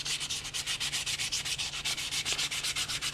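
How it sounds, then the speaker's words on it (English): Wet sanding of a resin-cast Bean phone stand by hand, a steady back-and-forth rasp in quick regular strokes, close and alone with no voices. "It was only about, I would say, 10 minutes worth of sanding."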